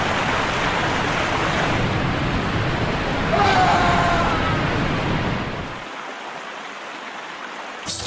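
River water rushing and churning after a man falls in, a loud broad noisy flow that swells in the middle and then drops to a thinner, quieter wash.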